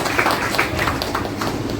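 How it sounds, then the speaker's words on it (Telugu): Audience at a church gathering in Bhadrachalam clapping their hands, a steady dense patter of many hands at moderate volume, fairly close, with no pauses across the short burst. "చప్పట్లు కొట్టి దేవుని నామాన్ని మహిమపరచాలి"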